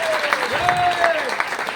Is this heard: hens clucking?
no